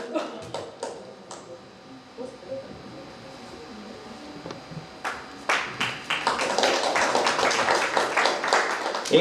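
An audience at a live Indian rhythm music program claps in welcome as guests come on stage, with scattered claps at first swelling into steady, dense applause over the last few seconds, with voices faintly underneath.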